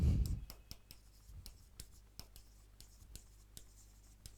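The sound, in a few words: writing on a board during a lecture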